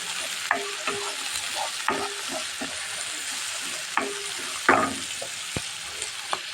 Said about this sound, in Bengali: চিংড়ি মাছটা আমার ভাজা হয়ে গেছে